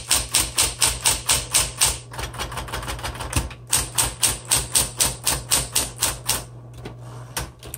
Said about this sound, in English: This is so easy to type on.